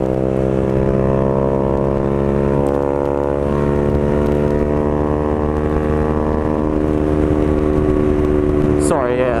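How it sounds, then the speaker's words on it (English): A Honda CBR125 motorcycle engine with a gutted, nearly straight-through exhaust, running close by with a loud, steady buzzing drone that rises sharply in a quick rev at the very end. "when I change gears sometimes it will pop and bang quite loudly"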